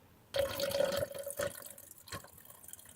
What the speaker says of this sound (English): I like to put like a really small amount of water in it